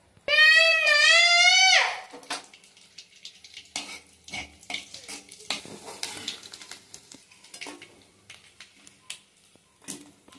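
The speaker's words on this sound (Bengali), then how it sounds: "কড়াই তেল দিয়েছি, এবার পাঁপড় ভাজবো।" Papad fries in oil in a wok, a sparse crackling sizzle with scattered pops that follows a brief, loud, wavering tone at the start.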